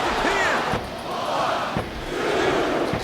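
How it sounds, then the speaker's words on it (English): Wrestling crowd in the video game WWE Smackdown vs Raw 2007 roars and cheers in loud swelling waves, punctuated by sharp slams from the ring, with no talk over it. "Listen to the crowd, JR."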